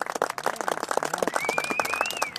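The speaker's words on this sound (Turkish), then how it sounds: "Kendisine kuvvetli bir alkış istiyorum." Crowd applause for the oldest rider at a Turkish cirit horseback javelin match, steady dense clapping throughout, with a faint whistle tone rising through the middle.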